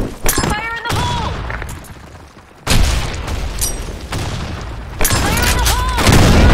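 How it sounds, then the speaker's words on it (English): A grenade explosion in the online shooter game Blackshot, booming loudly, followed by more sharp blasts and gunfire, with game voices calling out in between. "Grenade!"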